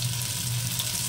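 Soya chaap pieces sizzle steadily in a hot pan after being flipped to cook both sides, a continuous close, loud frying hiss with no talking.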